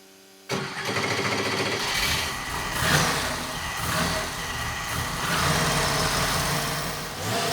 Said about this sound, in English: Time to hook up the Vortech Supercharger and let it do its thing.